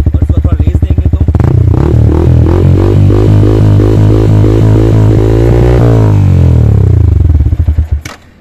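A modified Yamaha R15M's standard exhaust idles, then climbs through a loud, rising rev that holds for several seconds before dropping back and cutting off near the end, close and alone.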